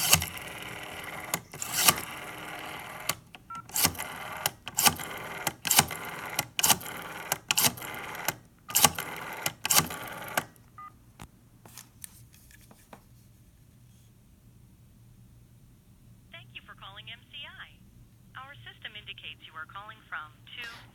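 Western Electric 702B Princess telephone dialing an MCI ANAC number: a rapid series of clicking pulses and line noise, then quieter line sounds and warbling tones, with a person talking over parts of it.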